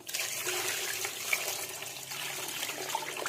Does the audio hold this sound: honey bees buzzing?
no